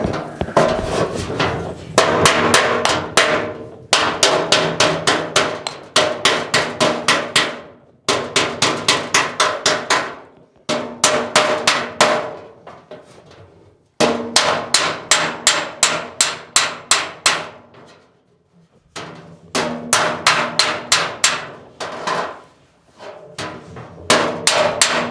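Hammer and dolly panel beating on a Bedford CA panel van body, loud metallic blows struck in fast rhythmic bursts of several hits each, separated by short pauses, close up with no talk.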